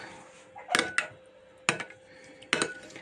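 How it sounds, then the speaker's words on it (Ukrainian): Gelatin is stirred in a bowl with a spoon, producing three or four sharp clinks and scrapes against the dish at close range, separated by quiet pauses. "Щоб не було таких комочків, розмішати треба гарно."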